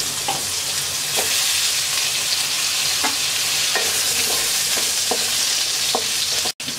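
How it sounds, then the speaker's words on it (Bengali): Potatoes frying in mustard oil in a wok give a dense, continuous sizzle, with periodic scraping and tapping from stirring throughout and one brief cut near the end. "এবার আমরা আলু আর বেগুন ভেজে নেব। প্রথমে আলু ভেজে নিচ্ছি।"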